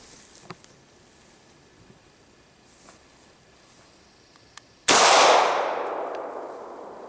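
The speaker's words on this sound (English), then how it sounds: "So let's shoot this thing." A handgun with a glue-obstructed barrel fires a single loud, sharp shot after several seconds of near quiet, the blast tailing off into a long, fading echo.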